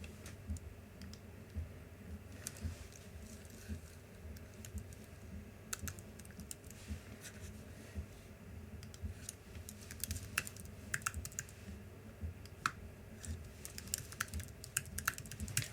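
A password is typed on a computer keyboard while setting up a MySQL database user for a WordPress install. The quiet, steady key clicks run unbroken for about sixteen seconds with no talking.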